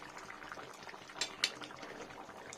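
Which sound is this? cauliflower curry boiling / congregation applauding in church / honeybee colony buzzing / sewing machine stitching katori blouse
cauliflower curry boiling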